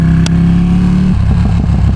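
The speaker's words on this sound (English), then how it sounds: "I love the sound of this bike" Ducati Panigale V2 sport bike engine rumbling loud and close, a sustained rev that drops off into a burbling, crackling idle with exhaust pops.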